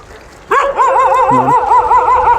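A dog's warbling, whining yelps rise and fall continuously, loud and close, with another dog's short growl-like bark briefly underneath, during a street fight between a Rottweiler and a German Shepherd.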